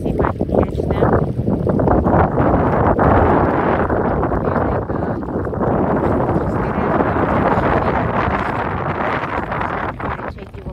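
A tour boat passes on open water near Sunset Beach Park, North Carolina, a steady broadband wash of engine and water rushing continuously, with heavy wind buffeting the microphone throughout.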